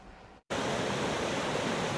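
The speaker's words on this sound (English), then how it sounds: "when the sound of the Cheyenne Creek gets louder, it also means it's getting quicker" Cheyenne Creek rushing after heavy rainfall, a loud, steady roar of flowing water that cuts out for a moment and then returns at full strength.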